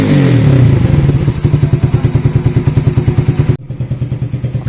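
A motorcycle with a standard exhaust idles close by, starting with a brief rev that settles into a steady, loud, rhythmic putter.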